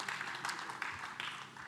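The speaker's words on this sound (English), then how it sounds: "Please give a huge round of applause for our panel moderator" Audience applause greeting a panel moderator at a workforce conference, a dense, steady wash of clapping from a sizable crowd that holds at an even level throughout.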